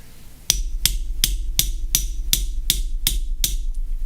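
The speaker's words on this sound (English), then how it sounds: "I'm just going to tap it with this pin hammer." A pin hammer taps a pin down into a plated through hole during a Sega Game Gear repair, giving nine evenly spaced, crisp metallic knocks close up, with a faint hum underneath.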